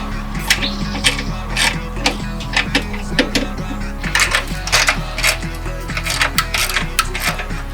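A hand ratchet clicks rapidly in repeated bursts while removing bolts from the bent radiator support carrier of a wrecked Chevy Corvette C7 Stingray, loud and close with a steady mechanical ticking.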